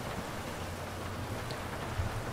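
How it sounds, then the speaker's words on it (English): Steady rain hisses across the scene in the video game GTA5 Online, a soft, continuous wash of falling water with faint low rumble beneath and no talking. "Should be interesting in the rain."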